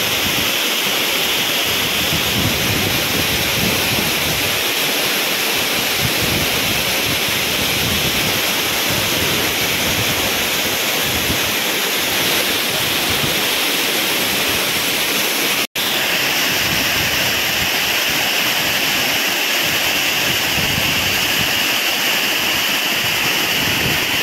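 Areekal waterfall in Pampakuda near Muvattupuzha roars steadily and loudly from close by, a continuous broad wash of falling water with no break across the whole stretch.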